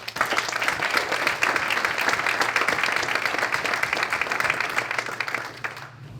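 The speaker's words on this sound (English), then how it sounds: "Please join me in a round of applause for our grant recipients." Audience at the Nassau BOCES State of the Agency Address gives a round of applause for grant recipients, a dense, steady wash of clapping that holds for about six seconds before thinning out at the end.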